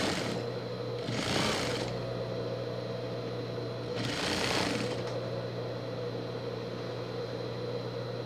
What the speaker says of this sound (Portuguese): costurando.